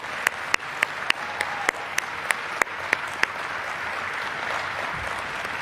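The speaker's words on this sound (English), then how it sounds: "So can we all offer him a round of applause for 13 years?" An audience claps in a formal ceremony setting, steady applause with a few louder distinct claps early, then a fuller even patter that tapers near the end.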